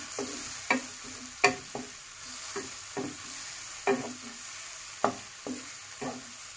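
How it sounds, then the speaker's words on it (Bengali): Onions frying in a pan for a fish curry, a soft steady sizzle punctuated by about nine sharp spatula scrapes and knocks as they are stirred at irregular intervals. "পেঁয়াজটা একটু ভাজার সময় লাগে"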